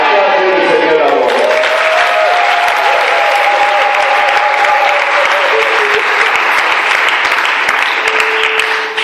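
A church congregation at a Pentecost service applauds and cheers loudly and continuously, with dense clapping and crowd voices filling the space throughout, while a sustained sung or musical tone runs underneath.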